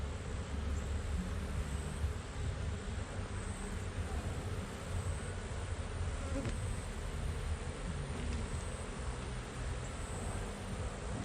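Honeybees buzzing in an opened hive during a queen check, a steady dense droning hum that fills the whole stretch, close and even in loudness, with no talk.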